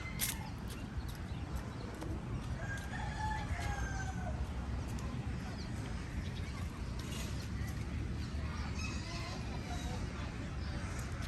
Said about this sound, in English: Oh, we found more chickens, honey.